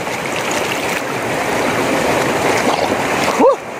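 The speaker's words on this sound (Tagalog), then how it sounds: "Ang tubig halin iya sa bukid mga parente." A clear, cold mountain river runs over large rocks with a loud, continuous rushing and splashing close by, and a voice briefly sounds over the water near the end.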